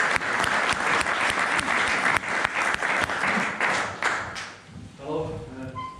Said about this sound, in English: please give the gentlemen a round of applause